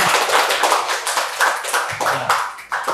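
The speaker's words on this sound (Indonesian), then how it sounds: "Oke, boleh beri tepuk tangan." A small group in a classroom claps hands in loose, uneven bursts, close and fairly loud, with separate claps standing out rather than blending into a roar.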